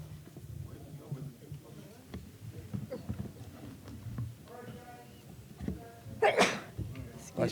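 One sharp sneeze rises out of the low murmur of a roomful of people gathered for a commemorative panel event, with soft chatter and shuffling before and after it.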